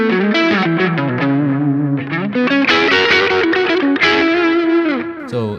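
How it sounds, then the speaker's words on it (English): An electric guitar plays a bluesy rock lead through a pedalboard with mild overdrive, reverb and delay, sustained melodic notes and bends ringing out loud and alone. "I can get a little bit of a cleaner overdrive kind of lead tone."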